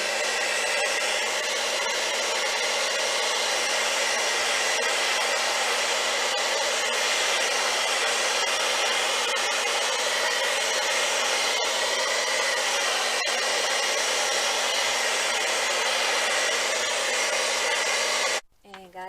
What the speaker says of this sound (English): and my blow dryer to make it lay like it's supposed to.